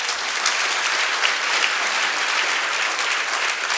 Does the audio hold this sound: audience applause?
yes